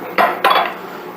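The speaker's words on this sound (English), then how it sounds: "I'm going to add our peas just to kind of get them warm through" Peas tip into a pot of cooked potatoes, two quick close clatters against the metal followed by a soft settling hiss.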